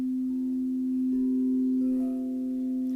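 A singing bowl for 432 Hz sound healing rings in one steady, sustained pure tone with soft overtones, heard alone without voices.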